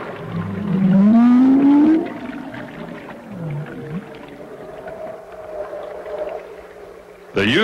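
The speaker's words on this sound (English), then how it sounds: "The whale calls are carefully recorded by Gary." Bowhead whale calls recorded under the Arctic ice pack: a loud rising moan, then several lower swooping and sliding tones, fairly close and alone over a quiet underwater hum, with a sharp click at the end.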